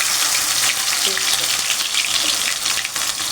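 Onion and tomato frying in oil in a pan along with other vegetables, a loud, steady close sizzle that continues without letup.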